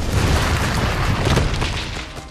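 A loud, rumbling blast from an explosion in a World War I tunnel fills the whole clip, a dense roaring burst that slowly fades toward the end with no voices.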